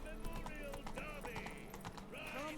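Hooves of Geralt's horse Roach clop in a quick, steady rhythm in The Witcher 3 video game, close and continuous, with someone speaking over the hoofbeats.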